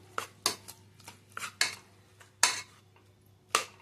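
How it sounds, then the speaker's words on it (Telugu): Cooked amaranth leaves and tomato mashed with a ladle in a pot, giving a series of irregular metallic clinks and soft squelchy presses, roughly seven distinct knocks spread across a few seconds, close and fairly quiet, with no talking. "ఇప్పుడు దీన్ని మెత్తగా ఇలాగ స్మాష్ చేసుకోవాలండి గరిటతో."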